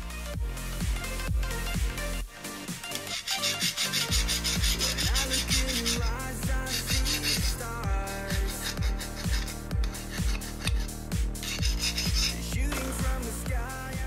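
A hand file rasps in steady back-and-forth strokes across a hardened steel mini dagger blade, loud and close, with a regular scraping rhythm and no voices.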